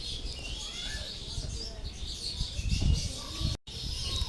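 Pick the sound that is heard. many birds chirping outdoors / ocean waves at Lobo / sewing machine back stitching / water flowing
many birds chirping outdoors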